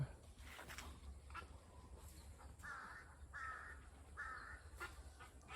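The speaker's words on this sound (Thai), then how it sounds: "เสียงอีการ้องครับ" A crow caws three times in a steady rhythm, moderately distant, over a constant low hum and faint outdoor noise.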